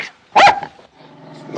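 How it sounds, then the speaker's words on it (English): A dog lets out a single loud, close bark, followed by a lower growling whine that trails off. "What are you doing with that dog? Whose dog is that?"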